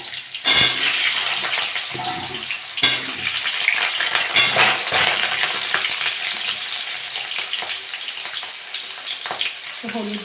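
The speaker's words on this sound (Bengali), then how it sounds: "তেলটা গরম হয়ে গেছে, আমি আলুগুলো ভেজে নেব।" Potatoes frying in hot mustard oil in a kadai give a steady, loud sizzle throughout, broken by sharp scrapes and clatters as they are stirred.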